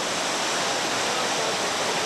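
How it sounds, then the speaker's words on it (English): Whitewater river rapids rush in a loud, unbroken roar of churning water as rafts run down big holes. "boat after boat finishing up a beautiful day on the water, running down these last big holes"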